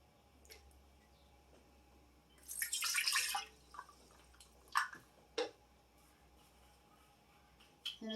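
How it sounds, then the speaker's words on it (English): Water is poured into a measuring cup for a bread-machine loaf in a home kitchen, a brief splashing gush of about a second, followed by a few light clinks and taps in a quiet room. "Start by adding the water, and it says 1 cup."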